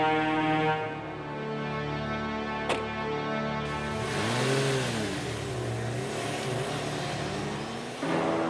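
A car engine revs and pulls away, swelling briefly then fading as it recedes, heard alone without talk.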